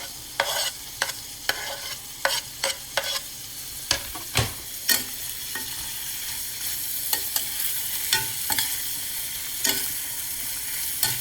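Shrimp and chopped scallions stir-fry in a pan over medium heat, a continuous soft sizzle broken by sharp clacks and scrapes of a utensil tossing the food, close and without talk.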